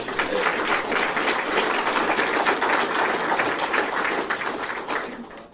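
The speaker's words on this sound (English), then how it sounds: "can we get a round of applause for our wonderful panelists here today?" A round of applause for the panelists at a hemp seminar, sustained dense clapping from the audience that stays steady for several seconds before tapering off at the end.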